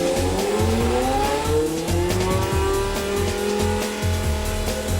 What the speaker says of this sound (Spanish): Los motores modernos de Fórmula 1 son modelos V10 de 3 litros